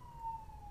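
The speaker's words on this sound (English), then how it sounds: "Sorry about the ambulance there" Steady wail of an ambulance siren going past, holding a sustained tone that swells slightly and then eases, with low rumbling background noise beneath it and no one talking.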